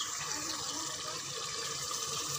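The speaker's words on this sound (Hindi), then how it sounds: "चलिए मैं इसमें और पानी भी डाल देती हूँ।" Water poured into a cooking pot, likely a pressure cooker, while making an arvi dish with fenugreek and green chilli: a continuous soft rushing hiss of liquid streaming in, steady and moderately quiet, with no speech.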